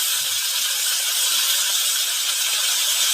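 Ridge gourd and potato pieces hitting a hot pan of oil, a steady, loud, close hiss of sizzling that holds evenly throughout, with no talking.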